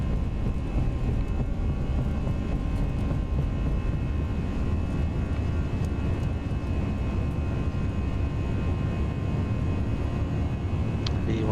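Airbus A320 jet engines at takeoff power in the X-Plane 11 flight simulator, a steady, loud, unbroken roar with deep rumble throughout and no talking.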